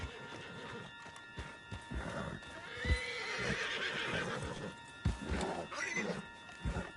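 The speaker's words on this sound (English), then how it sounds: "Get him on the horse and let's go." A horse in Red Dead Redemption 2 whinnies and clops its hooves in a quiet, close scene, with irregular hoof thuds scattered among soft snorts and a brief neigh.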